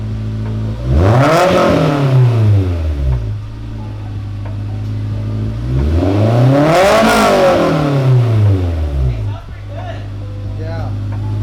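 A Honda S2000 AP1 fitted with an Invidia N1 exhaust revs twice, each climbing sharply to a loud rasping peak and falling back to idle, close by with a steady idle between the revs and people talking.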